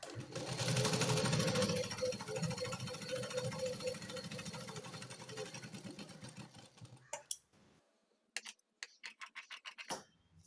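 A sewing machine stitches a hook strip in a fast, continuous whirring run, then drops to a few short stop-start bursts with brief silences between them.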